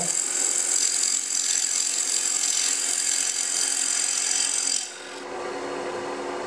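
Close-up scraping and shaving of wood on a lathe as a 3/8-inch bowl gouge cuts a cigar ashtray from edge toward center, a steady bright rasp that drops abruptly near the end to a quieter hum.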